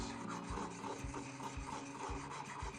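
A chisel is rubbed in small circles on a coarse sharpening stone, making a steady, close rasping scrape that swells in a regular rhythm about twice a second throughout.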